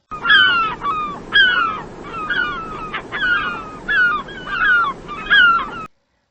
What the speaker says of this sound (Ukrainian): Це чайка.